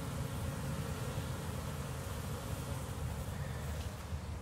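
Honeybees flying out of their hive on a mild winter day, a steady, dense buzzing hum that stays even and continuous throughout at a moderate level.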